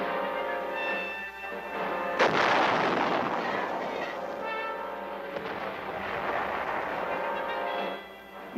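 Artillery guns firing during training at an army artillery school outside Tainan, Taiwan, with a heavy boom near the start followed by sustained rumbling blast noise and further reports, no talk.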